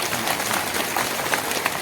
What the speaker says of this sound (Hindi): आप लोग जोरदार ताली बजाकर